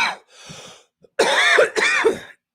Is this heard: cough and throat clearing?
yes